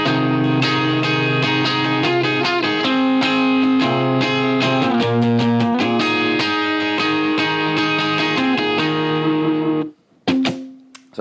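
Electric guitar picking a song's melody voiced inside its chords, a steady run of clean, sustained notes ringing together alone before a brief stop and one final struck chord.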